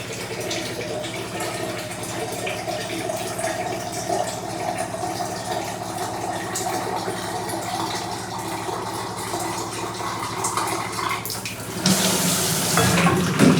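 Water runs steadily from a tap in a home kitchen, a continuous close splashing stream that swells into a louder, harsher gush near the end.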